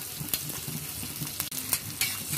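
Two thinly sliced onions fry in oil left over from frying chilies while aloo bhorta is being made. The oil gives a steady close sizzle, with occasional stirring scrapes and clicks over it.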